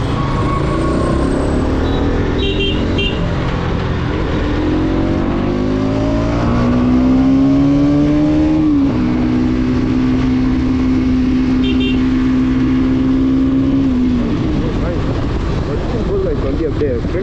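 Bajaj NS200 BS7 motorcycle engine revving hard, a loud close roar that climbs in pitch, holds a high sustained note, then drops back, with a voice talking over it.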